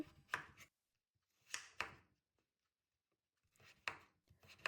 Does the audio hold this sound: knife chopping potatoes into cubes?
yes